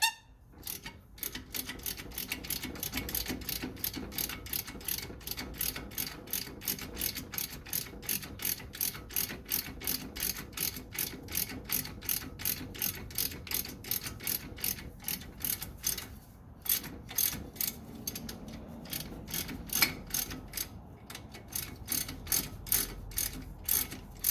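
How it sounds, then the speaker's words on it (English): A hand ratchet turns a bolt on the front strut of a 2008-2016 Chrysler Town & Country, with rapid, regular clicking in long runs broken by brief pauses, close and clear with no talking. "See if she's loose enough to use the ratchet now."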